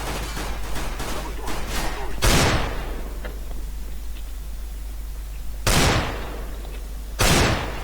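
Gunshots in the video game CS:GO against bots: a burst of rapid shots at the start, then three sharp, loud single cracks spaced a few seconds apart over faint background noise.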